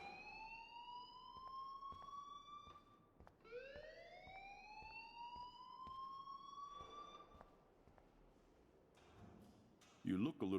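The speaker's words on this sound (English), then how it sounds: "please turn off that alarm since that's your job" A school fire alarm in the video game Life Is Strange rises in two long, sweeping siren-like wails that fade out, with speech beneath it and a louder burst of noise at the end.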